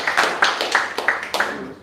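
Applause at a workplace safety-day ceremony as a monthly outstanding-worker award is handed out, a small group clapping in loose bursts, fairly close and modest in volume.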